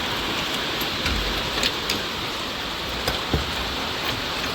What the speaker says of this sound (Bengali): সেই দুপুর থেকে বৃষ্টি শুরু হয়েছে, আর থামার নাম নেই।